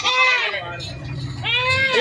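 Goats bleat during livestock loading at a goat farm, two strained wavering calls, one at the start and another near the end, with a low murmur of activity and handling noise between them.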